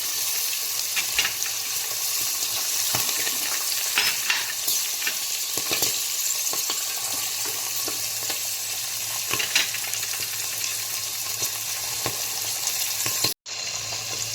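Mixed seeds frying in a pan for Gujarati undhiyu, a steady sizzle with intermittent scraping stirs, ending in a brief near-silent gap before the sizzle resumes.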